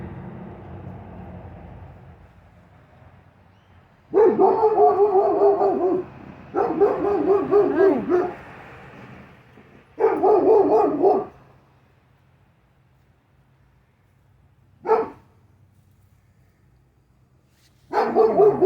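A neighbor's dog barks from nearby in a backyard by a fence, several loud bursts of repeated barking separated by quiet gaps, then a couple of single sharp barks.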